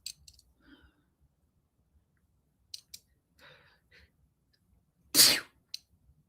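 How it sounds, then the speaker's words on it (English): A single loud sneeze bursts out after a few small breaths and faint clicks, followed by quiet rustling. "I feel like a sneeze is coming on"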